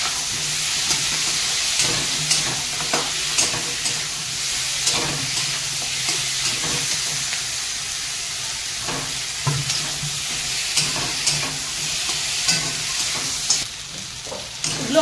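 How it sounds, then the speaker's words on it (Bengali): Prawns sautéing in a frying pan give a steady, close sizzle and hiss, with repeated scraping stir strokes throughout and no voices. "চিংড়িগুলো একটু কষে নেব।"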